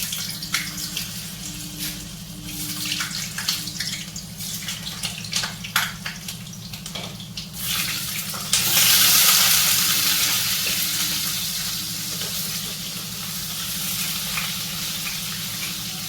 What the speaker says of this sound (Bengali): দেখো চিকেন বলগুলো আমার ভাজা হয়ে গেছে